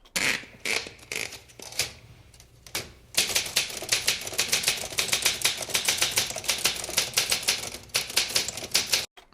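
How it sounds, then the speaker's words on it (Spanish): A manual typewriter clacks away in quick bursts of keystrokes, pausing briefly, then continuing in a fast, steady rhythm with no voices. "Es una máquina de escribir."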